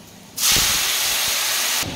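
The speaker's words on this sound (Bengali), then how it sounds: "ফোড়নটা রেডি হয়ে গেছে, এবার দিয়ে দেবো কেটে রাখা টমেটোগুলো" Chopped tomatoes hit hot tempering oil in a pan, setting off a sudden loud, broad sizzle that holds steady for over a second before cutting back down, with a couple of faint knocks underneath.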